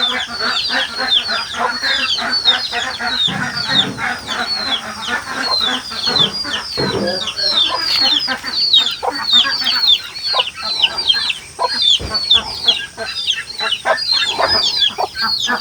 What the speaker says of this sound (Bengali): কিছু মুরগি।